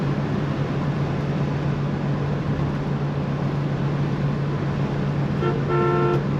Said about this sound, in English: Factory horn working well.